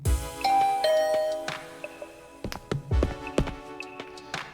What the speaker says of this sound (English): After pressing the doorbell